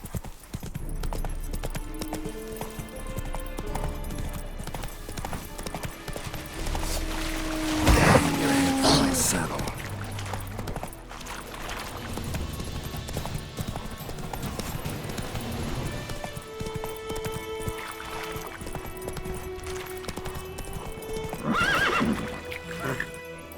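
Roach, a horse in The Witcher 3 video game, gallops in a steady clip-clop rhythm with a loud whinny partway through and another near the end, while someone speaks briefly over the hoofbeats.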